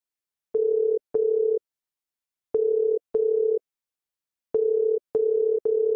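A phone call rings unanswered with the familiar double ring-back tone, pairs of steady electronic beeps separated by silent gaps, repeating clearly and evenly throughout with no voices.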